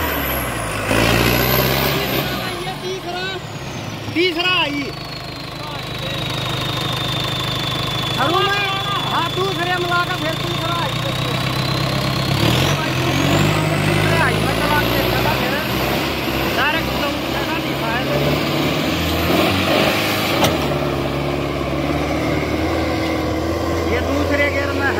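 A modified Sonalika 750 tractor pulling in third high gear, its engine roaring loud and close throughout with shifting revs and rattles, while someone talks over it and a high whine sweeps up and down.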